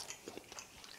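Chewing napa cabbage kimchi during a Korean home-cooked meal: a few soft, crunchy bites and mastication sounds close to the mouth, quiet and brief with no talking.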